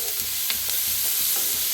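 Onions and green chillies frying in a little oil, a steady close sizzle with faint occasional stirring scrapes, no speech.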